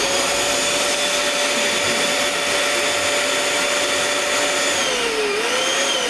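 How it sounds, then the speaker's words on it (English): A 15-inch clear latex balloon being inflated with air from a steady electric pump, a loud continuous whirring hiss with a rising tone that shifts pitch near the end. "inflate it with air"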